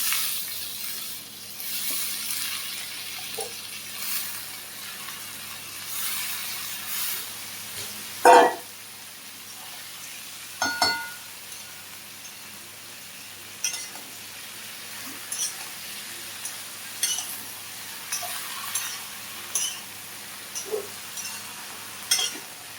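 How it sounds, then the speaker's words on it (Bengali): Katla fish roe frying in a pan with eggplant and potatoes, a faint steady sizzle broken by scattered clinks and scrapes of a utensil, one louder knock near the middle. "তো বন্ধুরা, ডিমটা কষানো হচ্ছে, এখন আমি বেগুন আর আলুগুলো দিয়ে দিলাম।"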